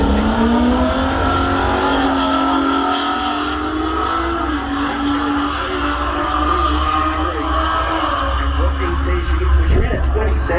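A naturally aspirated Holden 202 six-cylinder drag car roars loudly at a drag strip, its engine note climbing as it accelerates, with a commentator talking over it throughout.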